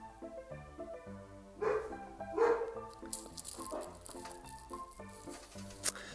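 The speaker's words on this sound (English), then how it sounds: "There's a dog outside, and our dogs feel the need to communicate with them." Household dogs bark in short, scattered bursts, reacting to another dog outside; the barking is fairly faint and indoors, over a low background hum.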